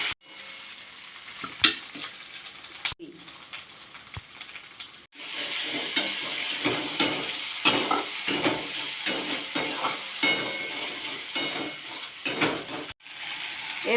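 Chopped tomato sizzles and fries in a pan for aloo dum, a potato curry, with steady broadband hiss and repeated scraping stirs and clinks of a spatula against the pan, close and fairly quiet, with no talk.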